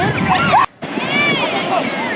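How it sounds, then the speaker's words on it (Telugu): Ocean waves break and wash ashore at Bapatla beach, a broad roaring surf with wind buffeting the microphone, briefly cut out, while voices chatter and shout close by. "ముందు ఎంత పెద్ద అలలు వచ్చినాయి చూడండి"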